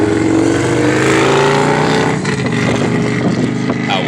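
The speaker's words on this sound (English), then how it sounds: "idiots on motorcycles, boy, I tell you." Motorcycles passing on a road, a loud, continuous engine roar that sweeps past close by and fills the whole stretch.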